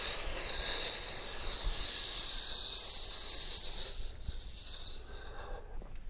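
A person imitates a snake's hiss with a long, steady breathy hiss, close and fairly loud, that fades out near the end.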